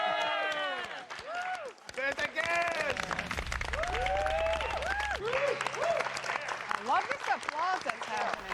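Applause and cheering from a studio crowd greet the new Top Chef host, a busy clapping wash partly buried beneath prominent voices talking and exclaiming throughout.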